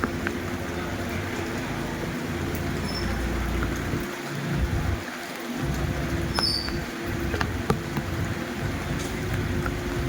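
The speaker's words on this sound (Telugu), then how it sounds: "ఉరుములు, మెరుపులు, ఈదురు గాలులతో కూడిన వర్షం పడింది." Steady rain during a thunderstorm with gusty wind in Narasaraopet, a continuous broad hiss with low rumbling swells and gust surges midway, moderately loud and with no voices.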